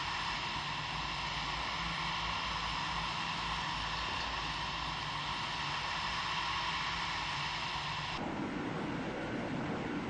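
Airplane engine in FSX Flight Simulator, a steady loud broadband roar and whine held constantly throughout, with the tone shifting slightly near the end as power changes.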